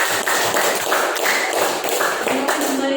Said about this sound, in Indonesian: berikan tepuk tangan untuk keempat teman